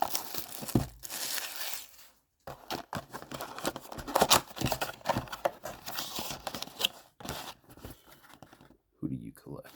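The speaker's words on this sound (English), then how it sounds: "let's learn how to rip a box." A 2021 Playoff football card blaster box is torn open, with close crinkling, tearing and crumpling of cardboard and wrapper in bursts between short pauses, and a person speaking partly over it.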